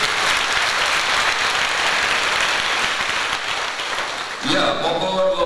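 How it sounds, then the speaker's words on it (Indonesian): A church-style audience claps steadily for God, a loud, dense wash of applause filling the space, then tapering into a few scattered claps near the end. "Berikan tepuk tangan sekali lagi untuk Tuhan."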